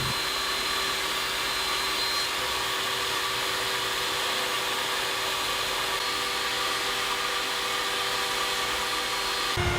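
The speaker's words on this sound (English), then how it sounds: "Now I'll give that profile a good sanding using my belt sander." A belt sander runs steadily on wood, a loud continuous whirring and grinding hum that holds constant throughout, close up with no talking.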